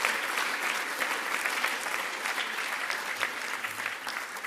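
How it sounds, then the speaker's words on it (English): Steady, loud audience applause fills a hall at the Palestine Expo, many hands clapping densely and evenly throughout without a break. "give a round of applause for the Palestine Expo"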